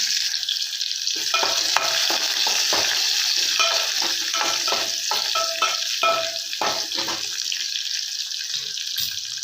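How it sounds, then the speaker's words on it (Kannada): Crushed garlic is stirred into a hot pan of sizzling oil for saaru, a South Indian lentil soup, with steady frying hiss and irregular scraping stirs throughout, close up and without speech. "ಕುಟ್ಟಿಟ್ಟಿರು ಅಥವಾ ಜಜ್ಜಿಟ್ಟಿರೋ ಬೆಳ್ಳುಳ್ಳಿ ಹಾಕೊಳ್ಳೋಣ. ಚೆನ್ನಾಗಿ ಮಿಕ್ಸ್ ಮಾಡ್ಕೊಳ್ಳೋಣ."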